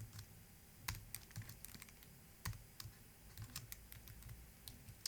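Someone types JSON on a computer keyboard with soft, quick, uneven keystrokes and a few firmer taps, close by and quiet, with no one speaking.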